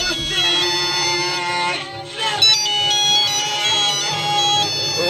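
A phone ringtone sounds for an incoming call, a loud melodic electronic tune with repeating tones, fairly close and sustained throughout.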